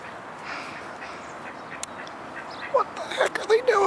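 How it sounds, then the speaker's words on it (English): Ducks quack in the morning outdoors, a few quiet calls at first and then a burst of close, loud, overlapping quacks toward the end. "going to find the ducks."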